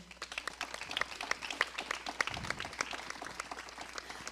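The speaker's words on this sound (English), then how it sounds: "Please, our applause for them." An audience at a student coding and tech solutions expo gives a brief round of applause, fairly soft and distant, made of dense scattered claps throughout.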